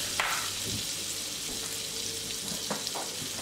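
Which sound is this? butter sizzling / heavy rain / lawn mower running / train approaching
butter sizzling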